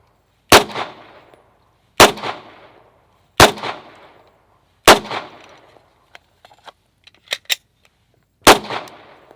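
Five sharp, loud gunshots fired at a target from about 25 yards on a range, spaced roughly one to one and a half seconds apart, each with a short decaying echo, plus a few faint clicks and small knocks between the later shots.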